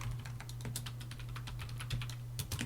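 Rapid keystrokes on a computer keyboard as a password is entered, a steady run of close, crisp clicks with no talk, over a constant low electrical hum.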